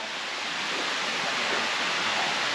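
Bua Thong sticky waterfalls near Chiang Mai roar nearby, a loud continuous broadband rush of falling water that stays steady throughout.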